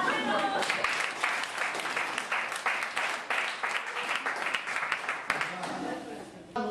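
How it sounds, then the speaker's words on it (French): Audience applause at a religious talk, a continuous burst of clapping of moderate loudness that carries steadily and stays fairly even to the end. "Si vous pouvez applaudir."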